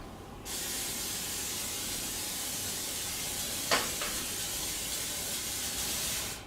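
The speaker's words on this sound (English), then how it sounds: "I'm going to go ahead and spray that into the pan." A steady cooking spray hiss into a pan starts abruptly and continues unbroken for several seconds, close by, with a faint clink partway through.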